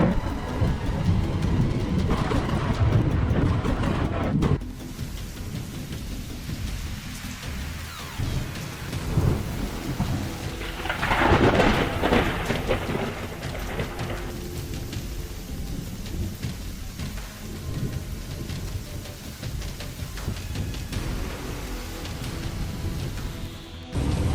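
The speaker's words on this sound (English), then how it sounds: "Have you ever witnessed lightning strike that close before?" Heavy rain pours steadily during a thunderstorm while a very close lightning strike brings loud, deep rolling thunder that swells and rumbles for several seconds, with no voices over the downpour.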